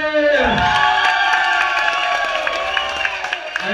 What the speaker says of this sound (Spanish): ¡Un aplauso para el Kader!